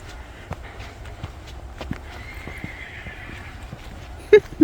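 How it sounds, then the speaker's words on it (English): Horses in a field near Alaska fairgrounds, with faint hoof thuds and distant movement, ending in two loud, close neighs. "Some noisy horses."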